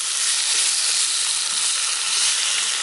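Steak laid into a hot pan of olive oil at an outdoor summer camp meet, giving a steady, loud, close sizzle of frying that holds evenly throughout with no talk.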